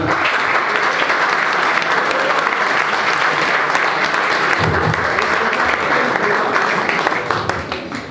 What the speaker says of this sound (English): Round of applause for Marwan.